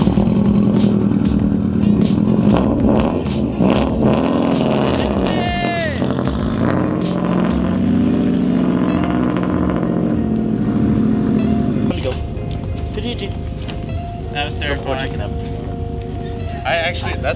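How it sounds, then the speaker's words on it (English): A Subaru car pulls out with a loud, close engine rev that rises and settles into a steady running drone, rattles and clatter mixed in, while people talk over it. "Now I gotta get the car out of here."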